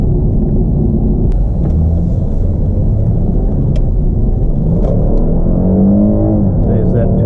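A 2010 Toyota Crown Athlete with its 2GR V6 accelerating, heard from inside the cabin as a low, building engine rumble with a rising tone near the end, while someone talks over it.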